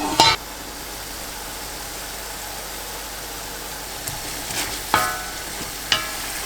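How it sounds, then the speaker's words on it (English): A spoon stirs chicken palak paneer balti masala in a pan, giving a steady low sizzle with a few sharp scrapes and clatters, one at the start and a couple near the end. "Give the masala a good mix."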